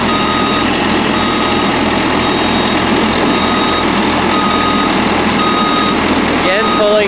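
A forklift reverses while unloading bundles, its reversing alarm beeping steadily over the loud, close drone of an idling engine, continuous from start to finish.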